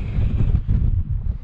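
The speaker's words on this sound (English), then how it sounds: "Quite windy." Wind buffets the microphone in heavy, uneven low rumbling gusts while pike fishing outdoors, continuing throughout, with no other clear sound.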